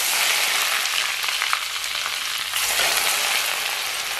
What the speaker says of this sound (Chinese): 然后咱们给上边浇上滚烫的热油